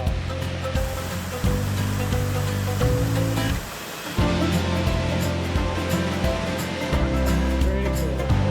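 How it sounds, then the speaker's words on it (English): A cloud-forest waterfall in Mindo roars as a loud, steady wash of rushing water, with a brief dip partway through before the full torrent resumes close by. "Take a look at this amazing waterfall at the end."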